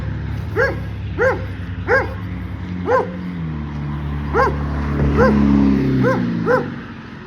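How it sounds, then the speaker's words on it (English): A dog barks repeatedly in sharp, evenly spaced yips, fairly close and loud over a steady low engine-like drone. "I don't know what kind of breed of dog that is"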